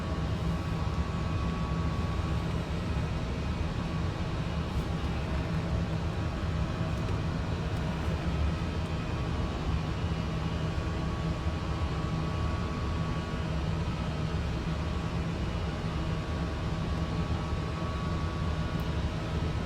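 Airbus A321 cockpit during a slow acceleration with flaps 1 after an engine failure at V1 departing Innsbruck, a loud continuous engine and airflow roar with a steady low hum, unchanging throughout with no voices.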